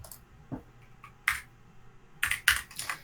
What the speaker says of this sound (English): I hit backspace.